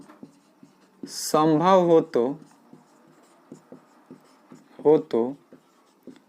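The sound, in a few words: writing on a board during a maths lesson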